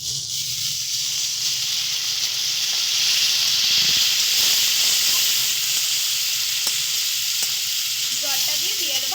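A splash of water hits spice paste frying for a tomato and onion amudi fish curry, setting off a loud, close, hissing sizzle that swells and stays steady throughout.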